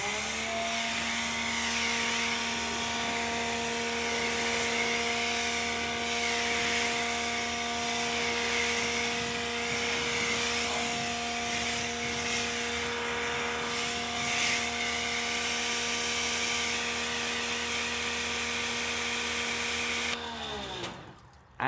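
A Ryobi 1.8 GPM automotive high-flow pressure washer sprays through a 40 degree, 3.4 millimeter tip, a loud continuous motor whine and water hiss held steady for about twenty seconds before cutting off abruptly.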